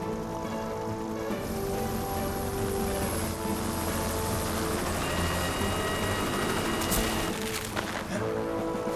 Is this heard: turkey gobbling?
no